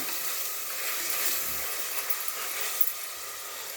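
Green chillies sizzling in hot oil in a pan for a bottle gourd mutton curry, a steady bright hiss and crackle throughout.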